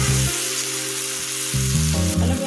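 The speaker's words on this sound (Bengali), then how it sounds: "মাছটা আমার কষানো হয়ে গেছে" Fresh river fish sizzles steadily in a hot pan as it is fried down with spices, a continuous close frying hiss with low cooking tones beneath and no talking.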